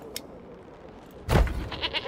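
Goats bleat in the medieval village-building game Manor Lords, a loud wavering bleat breaking in abruptly partway through over a low ambient background, with no talk.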